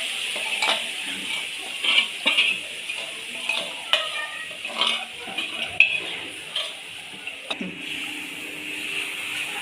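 Steady sizzling of fried chicken pieces in hot oil, with stirring scrapes and occasional clinks of a utensil against the pan.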